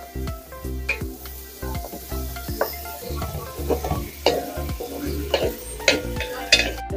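Minced meat fries in its own fat without added oil, sizzling and popping in a hot pan, with a spatula stirring and scraping in a steady rhythm, close and fairly loud.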